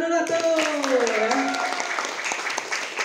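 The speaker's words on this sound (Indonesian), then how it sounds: "Tepuk tangan dulu tuh." A group of children clap their hands together in a classroom, a steady rustling patter lasting a few seconds, with an adult's voice rising above it at the start.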